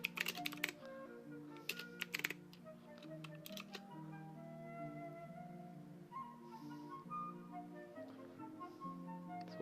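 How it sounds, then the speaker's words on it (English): Quiet clicks from a computer keyboard, clustered in bursts at the start and then scattered, with a soft tonal background running underneath. "Or maybe I type in here for a delay."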